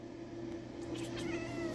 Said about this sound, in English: There's the Solar Cat right here.